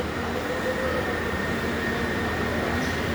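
Steady, continuous rumble of trains at Thrissur railway station, with a faint high squeal near the end and no talk.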